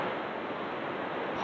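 Water rushes in a steady, broad roar, continuous and unbroken, as a waterfall pours down into a lake in North Cascades National Park.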